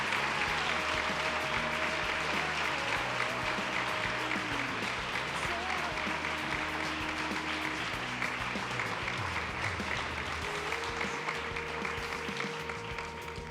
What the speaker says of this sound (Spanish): Este fuerte aplauso para vosotros.